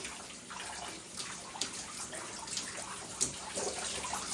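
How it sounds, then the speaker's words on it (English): Shower water rinsing shampoo out of hair, a faint steady hiss of spray and splashing with small irregular splats and drips and no voices. "you can stick it back under the shower head and wash all that shampoo out"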